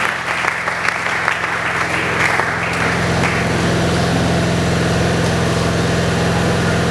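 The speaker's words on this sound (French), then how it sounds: "Est-ce qu'on peut acclamer pour la parole de Dieu?" A church congregation at a Sunday service applauding in a steady, dense wash of clapping that starts a little uneven and settles into a sustained roar, with a low hum running underneath.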